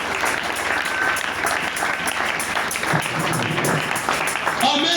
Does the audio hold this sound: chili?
no